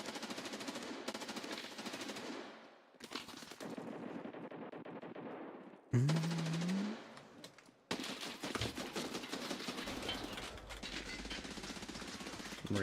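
Rapid automatic gunfire from a rifle in the Escape from Tarkov shooter game, loud and close, firing in several long sustained bursts separated by brief pauses, with a sharp rising tone sweeping through one gap.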